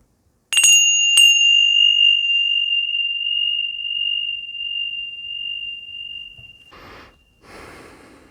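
A meditation bell is struck twice in quick succession and left to ring, its bright metallic tone sustaining alone for several seconds and slowly fading, before soft breathing-like rustles at the end.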